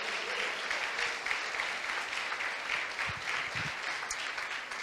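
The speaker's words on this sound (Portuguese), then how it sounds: "Você pode aplaudir se você crê nisso." Church congregation applauding steadily and loudly throughout, a dense, continuous wash of clapping from many hands with no talk over it.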